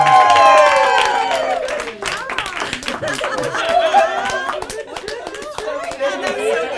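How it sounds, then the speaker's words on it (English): A room of spectators claps and cheers after a parlor magic trick, a loud burst of applause mixed with chatter and light laughter that trails off as voices take over. "Give her a big round of applause."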